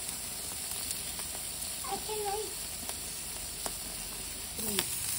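Meat and sausages sizzle on a grill with a steady, close, soft hiss and scattered pops, while faint voices chat briefly over it.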